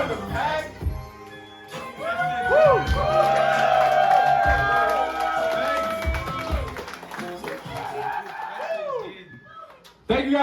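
A concert crowd at a live music set cheers and shouts loudly with music still ringing, swelling through the middle and thinning toward the end, with voices and scattered claps mixed in.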